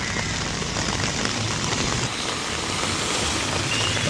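Heavy rain pours steadily on a street in Jaffna, a dense, loud, continuous hiss with traffic rumbling through water underneath.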